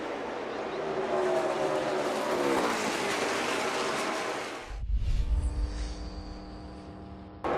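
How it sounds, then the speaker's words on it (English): NASCAR Cup race cars accelerating hard at Pocono Raceway, a loud continuous roar of engines climbing through the gears, then a deeper near pass-by with a low rumble before the sound thins out. "Back up through the gears they go."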